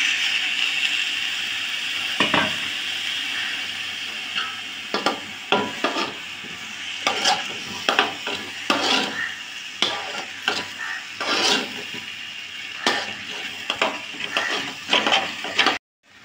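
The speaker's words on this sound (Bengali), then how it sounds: "সামান্য একটু জল দিয়ে দেবো।" Khichuri sizzling and frying in a pot after a splash of spice-bowl water is added, with steady hissing throughout and repeated scraping stirs of a wooden spoon against the pot, close and fairly loud.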